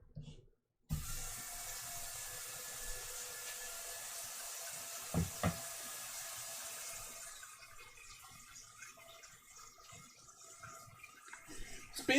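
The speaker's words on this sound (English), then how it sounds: "Fill up the pasta pot with water here." Tap water running into a pasta pot at a kitchen sink, a soft steady splashing flow that starts after a short silence, continues throughout and changes tone near the end as the pot fills.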